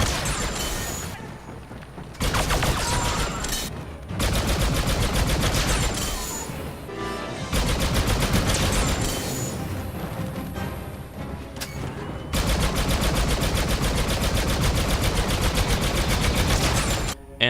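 An FMWB-10K heavy blaster in Star Wars Battlefront 2 fires long continuous automatic bursts, loud and close, broken by a few brief pauses, with no talking.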